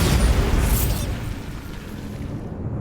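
A Bombarda blast spell going off in Hogwarts Legacy: a loud, close explosive boom with a broad rumbling burst that slowly decays into a fading roar.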